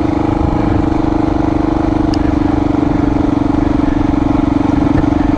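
A Honda XR400R motorcycle's engine runs steadily up close, a loud, even thumping drone with no change in pace and no voices over it.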